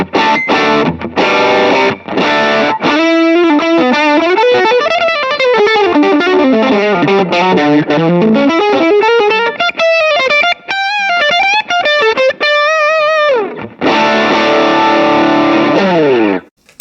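An electric guitar through both channels of a dual overdrive pedal at once, one side open and the other compressed, playing a soaring, sustained distorted melodic lead that bends and climbs, framed by choppy chords at the start and end.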